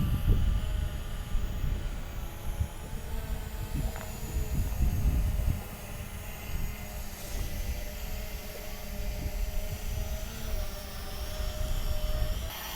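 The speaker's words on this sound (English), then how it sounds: "the drone is supposed to be following me" A Ruko U11 quadcopter drone flies along behind its operator outdoors, giving a steady, continuous motor whine with fixed tonal harmonics over gusty low rumble, fairly near and unbroken for the whole stretch with no talking.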